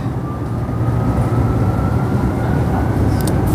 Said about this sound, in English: It is, of course, a 6-car train.